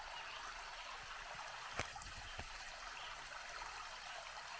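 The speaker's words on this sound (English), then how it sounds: "Look at the beautiful little waterfall." Small waterfall and stream on the Appalachian Trail, a steady rushing trickle of water heard at moderate distance, with a couple of brief knocks partway through and no talking.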